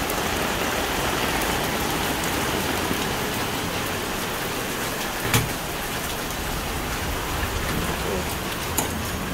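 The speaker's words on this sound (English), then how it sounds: "quite by chance, the heavens opened and started raining." Heavy rain pours steadily outside a townhouse in Sri Hartamas, a dense, continuous hiss of drops on surfaces lasting throughout, with a couple of brief louder splashes or knocks.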